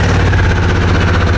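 A Harley-Davidson Sportster S 1250 Revolution Max engine roars loudly and close, a steady throbbing mid-pitched drone throughout the short moment.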